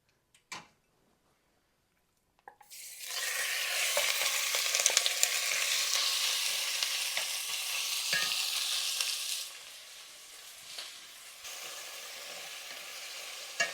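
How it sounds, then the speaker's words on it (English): Chicken pieces go into hot oil in a pan and set off a loud, steady sizzle that runs for several seconds, then eases to a lower crackle with occasional utensil clicks. "We're going to get some oil in here and get our chicken cooked."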